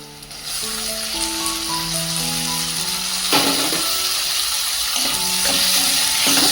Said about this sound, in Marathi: कांदे छान लालसर परतून झाले. आता मी टोमॅटो घालते.